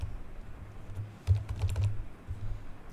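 Keys on a computer keyboard are tapped in a short burst of quick clicks, close and fairly quiet, with brief pauses between them and no speech.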